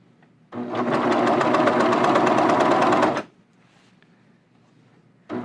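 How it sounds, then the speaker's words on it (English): Serger overlock machine trimming and sewing a jogger waistband seam, a loud steady rapid whir for about three seconds that stops abruptly, then a brief restart at the end. "So I'm going to serge, and that angle just now got cut off."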